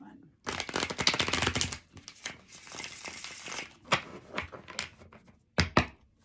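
A deck of tarot cards is shuffled nearby in bursts of riffling and crisp slaps, with brief gaps between them. A voice talks over parts of it.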